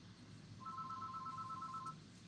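A telephone rings with a steady repeating electronic trill at moderate volume, heard clearly over low room noise during a bead-crafting session.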